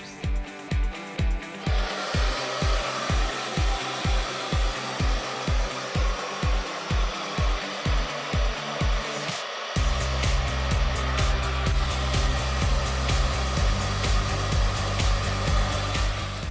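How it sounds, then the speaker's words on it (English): A hair dryer fitted with a diffuser, set to high heat and low airflow, dries curly hair. A steady whooshing hum runs underneath, broken by rhythmic pulsing thumps at first, then a louder, smoother, continuous blowing tone. "And then we go in with our diffuser. We're gonna do a high heat setting, but a low air flow."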